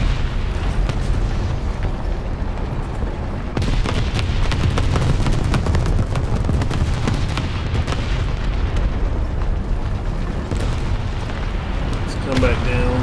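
In War Thunder, a tank's ammo rack detonates: a dense, continuous roar of explosive rumble and engine noise fills the scene, loud and low-pitched throughout, with a voice speaking over it.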